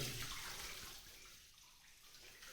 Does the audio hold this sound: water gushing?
yes